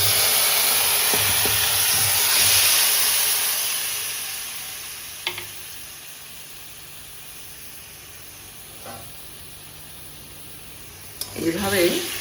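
A marinated chicken leg piece sizzles in a kadai with a soft, steady hiss that swells and fades, broken by a few sharp clanks of a utensil and a clattering burst at the end.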